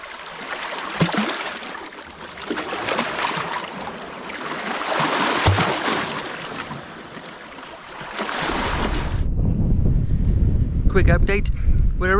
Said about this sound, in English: that southwesterly wind has picked up, always the way as high water approaches